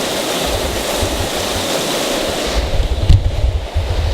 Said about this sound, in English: We got this beautiful blue creek that's flowing right past us.